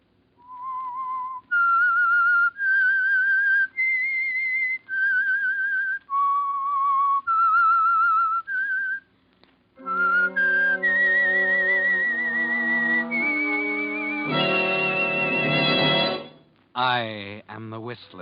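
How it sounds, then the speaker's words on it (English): A lone whistler performs the eerie theme melody that signals the Signal Oil radio program, a clear, loud sequence of sustained notes that shifts into a layered orchestral swell near the end. "That whistle is your signal for the Signal Oil Program"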